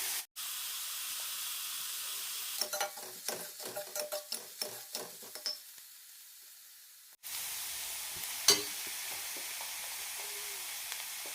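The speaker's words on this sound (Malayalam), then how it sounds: "സവാള നന്നായി വഴന്ന് കിട്ടണം." Onions sautéing with salt in a pan for paneer gravy give a steady hiss and sizzle, broken by a run of clattering stirring scrapes, then a brief cutout and a renewed sizzle with a few knocks, with no talking.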